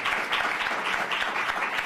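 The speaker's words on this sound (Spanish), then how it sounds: "Un aplauso." An audience at a lecture on constitutional reform applauds in a brief, lively burst of many hands clapping together.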